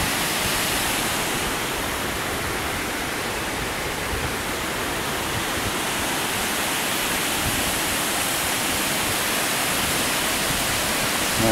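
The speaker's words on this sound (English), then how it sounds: "Look at that old dam." Water pours steadily over the old Ware Shoals upper dam on the Saluda River, a continuous broadband rushing roar that stays loud and even throughout.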